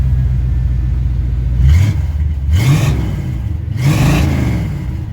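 A 1987 Chevrolet R10 pickup engine, tailpipes cut off behind the mufflers, idles with a deep steady rumble and is revved three times in quick blips, each rising and falling loudly close by.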